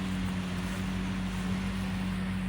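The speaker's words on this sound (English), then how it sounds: "look at this tractor cut grass for a little bit" A tractor mowing grass on Polish farmland near a railway line gives off a continuous low engine drone with a steady hum, loud and close, mixed with some wind rumble.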